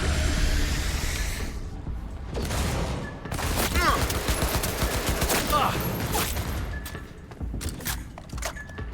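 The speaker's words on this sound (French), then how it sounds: "c'est qui me tire dessus, c'est par derrière on me tire là ou quoi?" Bursts of automatic gunfire in the video game Cyberpunk 2077, dense overlapping shots and booms rolling on and off for several seconds, loud and close, with someone talking over parts of the firing.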